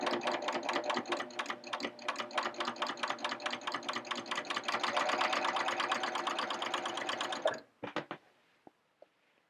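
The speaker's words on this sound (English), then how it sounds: "I'm going to stitch a few more inches and see if that's correct" Sewing machine stitching a seam in a steady, rapid rhythmic burst lasting several seconds, then stopping abruptly, followed by a few faint clicks and taps as the fabric is adjusted.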